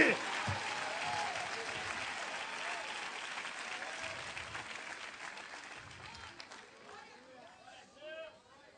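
Loud church congregation applause, dense and sustained, gradually fading toward the end as a voice emerges.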